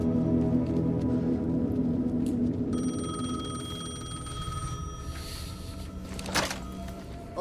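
An old telephone in Alan Wake 2 rings with a steady metallic bell tone partway through, over a low droning ambience with a thud and rustle near the end.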